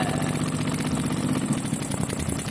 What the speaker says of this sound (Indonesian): Motor suaranya kayak gini nih